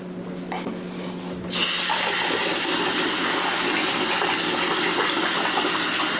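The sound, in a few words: rinsing rice under running water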